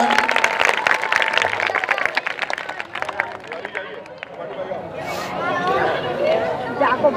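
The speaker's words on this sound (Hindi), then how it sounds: "की रागिनी ने प्रथम स्थान प्राप्त किया है और तालियां बजा के" Audience clapping at a school prize-giving, brisk close applause from a crowd that fades into murmuring chatter, with a voice speaking over the start.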